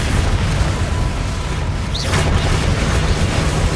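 A Confringo fire spell explodes in the Hogwarts Legacy video game, a dense roaring blast of noise that swells briefly midway and stays loud and full for the whole few seconds.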